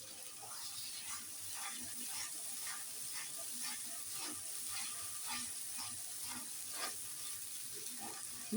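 Onion paste frying in a pan for a Bangla Muharram dish, a steady close sizzle with soft rhythmic stirring scrapes and no talk.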